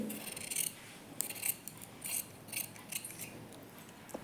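Scissors snipping through blouse fabric in a series of short, quiet cuts with brief pauses between them, close and alone with no talking.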